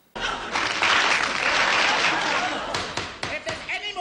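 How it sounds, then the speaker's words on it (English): Stock footage of a crowd of women applauding, dense steady clapping that rises sharply and holds loud before thinning into scattered claps near the end. "If there's any more stock film of women applauding, I shall clear the court."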